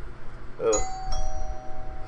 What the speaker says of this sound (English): Hey, doorbell.